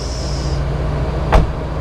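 A single solid thud of a vehicle door shutting, heard once over a low, steady engine rumble.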